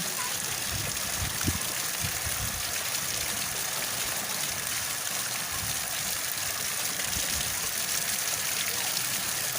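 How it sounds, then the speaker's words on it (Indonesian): Continuous rushing water roars evenly throughout, a broad steady wash like a nearby waterfall in a family park at Gunung Pati, Semarang, with no talk over it. "Ada air terjun"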